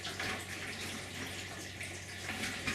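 Water streams and splashes steadily as a bucket of soaking fodder seed is lifted slowly and drains, a continuous hissing trickle heard up close without any talking.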